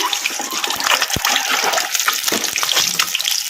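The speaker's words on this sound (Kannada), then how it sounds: "ಮೊಟ್ಟೆ ಕೆಂಪುಗಾಗೋವರೆಗೂ ಫ್ರೈ ಮಾಡ್ಕೋಬೇಕು ಮೀಡಿಯಮ್ ಫ್ಲೇಮಲ್ಲಿ" Eggs fry in oil over a medium flame for an egg pickle, giving a loud, continuous sizzling hiss dotted with small crackles and pops, with no voices.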